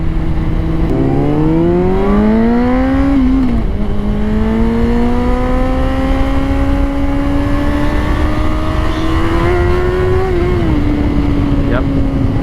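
A Honda CBR 600RR sport bike's engine drones and rises through gears on curvy Wisconsin backroads, with steady wind rush and pitch climbing, dropping at shifts, then climbing again; riders' voices talk over it.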